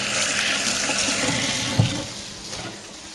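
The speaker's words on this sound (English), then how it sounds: "I'm just going to wash my hands." Tap water runs steadily into a kitchen sink while hands are washed beneath it, a close, continuous splashing hiss with a brief knock partway through.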